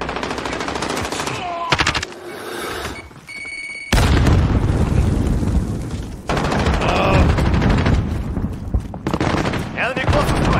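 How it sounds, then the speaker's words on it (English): Modern Warfare video game combat: rapid bursts of machine-gun fire and gunshots punctuated by a heavy grenade explosion, loud and close, with brief pauses and short voice callouts between bursts. "throw a grenade up here."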